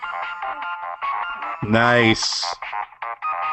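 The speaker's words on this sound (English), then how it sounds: "You like my new ringtone?" A phone ringtone plays: a brief, bright melodic jingle with a rising slide lasting under a second, surrounded by casual conversation.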